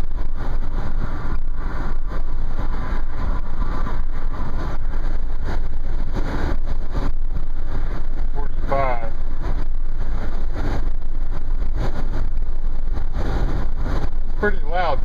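Inside a 2010 Nissan Murano cruising at about 45 to 50 mph, wind roars through the sunroof as a loud, constant broadband rush over a low road rumble, with a faint voice underneath.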